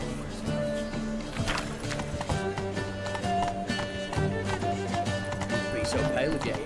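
Roach, the horse in The Witcher 3, galloping with rapid rhythmic hoofbeats close by, under game music and someone talking.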